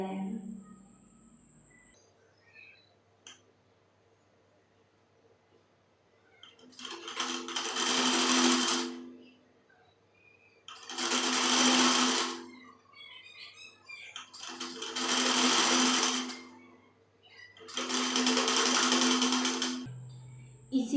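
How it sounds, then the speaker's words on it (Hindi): A sewing machine stitches a kurti in four steady runs of fast, whirring stitching, each lasting a couple of seconds and separated by quiet pauses, heard up close. "ऐसे करके हमें पूरे एक बराबर से यहाँ पे सिलाई लगाना है। यहाँ पे गौर कीजिएगा हम किस तरह से सिलाई लगा रहे हैं।"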